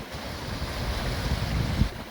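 River water flows against an eroding riverbank, a rushing wash mixed with wind buffeting the microphone, steady and fairly close, with no voices.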